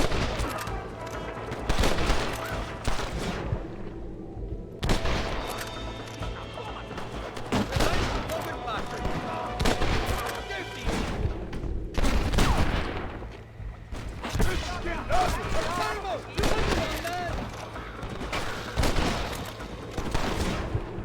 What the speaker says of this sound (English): Taking a lot of bullets here.